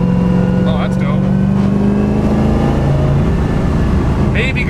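BMW E36 M3 with a 660 hp 7.1L LS2 V8 accelerating in fourth gear at about half throttle, a loud steady engine drone rising gradually from inside the car, with people talking over it.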